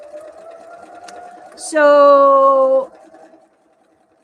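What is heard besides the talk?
sewing machine sewing fabric pieces together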